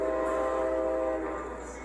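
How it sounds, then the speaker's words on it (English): A fast train barrels toward a bridge, its horn blaring a loud, steady, multi-toned blast throughout over a low rumble, easing slightly toward the end. "A man is walking along a bridge when suddenly a train comes fast in the opposite direction."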